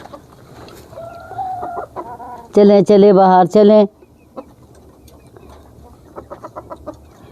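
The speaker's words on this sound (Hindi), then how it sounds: "ये हमारा मुर्गा है, बहुत बदतमीज़ है, औरों से लड़ता है।" Backyard hens and a rooster cluck and squawk, with a loud burst of calls in the middle and softer, scattered clucks after it, while a person talks nearby.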